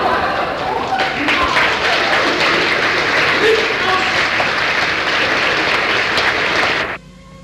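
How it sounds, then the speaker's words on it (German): Sustained applause from a theatre audience after a comedy performance, a dense, steady wash of clapping that holds at full strength and then cuts off abruptly near the end. "anhaltender Beifall gewiss"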